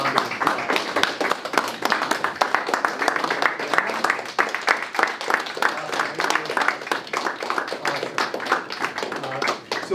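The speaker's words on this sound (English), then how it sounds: "how about giving Mr. Kuhlman a round of applause?" An audience at a school gala applauds a teacher with a sustained, dense round of clapping that stays steady throughout, individual claps crisp and close amid the crowd.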